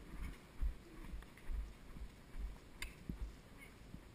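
Horse hooves clip-clop in an uneven, quick rhythm on an uphill trail, several horses including an Arabian and a Friesian stepping fairly close, with a faint background hiss.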